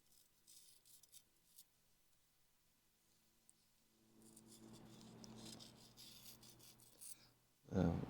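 Quiet rhythmic rubbing and rasping as an MG TD car seat rail is sanded by hand with lapping compound, soft and close, with scattered small clicks and a sharp knock at the end.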